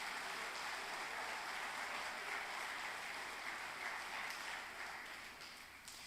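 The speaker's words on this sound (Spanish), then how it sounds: "Dele fuerte palmas al Señor" A church congregation claps steadily in dense, continuous applause, filling the room evenly before tapering off slightly toward the end.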